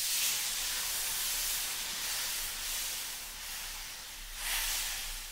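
Steady broadband hiss of water sizzling in a hot wok, continuous throughout with a surge of louder spitting near the end.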